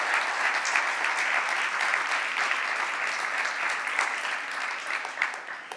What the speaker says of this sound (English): I hope you can hear the applause all the way from Brussels.